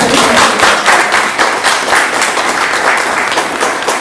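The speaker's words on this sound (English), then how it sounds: "I think we should give you a round of applause" Close, loud round of applause at a school district governing board meeting, a brisk uneven patter of hands clapping that fills the whole short stretch without a break.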